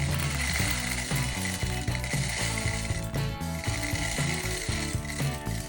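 A homemade automated cat food dispenser run through Home Assistant turns its mechanism to portion out dry kibble, producing a quiet, steady run of rhythmic ratcheting clicks and gear whirring.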